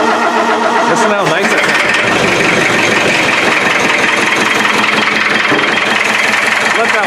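A Volkswagen car engine, fitted with a new starter and new cylinder, cranks and catches around one second in, then settles into a steady, loud idle, with a voice speaking briefly over it.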